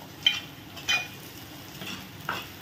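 Ginger garlic paste sautéing with softened onions in a pan for Kerala-style fish kulambu, a faint steady sizzle broken by three brief scrapes of a spatula stirring, close up and without speech.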